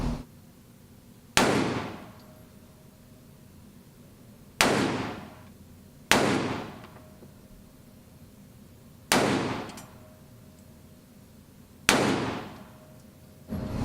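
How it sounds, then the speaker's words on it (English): Five loud, sharp reports from an unsuppressed Springfield XD 9mm pistol, fired singly at uneven intervals outdoors, each crack ringing off in a short decaying tail with no talk between shots. "So let's get right to the Springfield XD unsuppressed 9mm."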